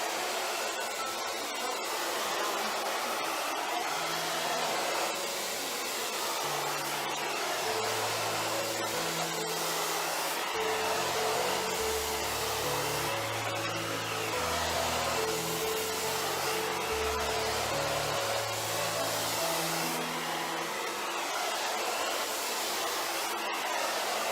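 A hair dryer blow-dries long hair straight back in a salon-style tutorial, a loud close continuous whooshing roar with slight shifts as the airflow moves through the hair, running the whole time without talking.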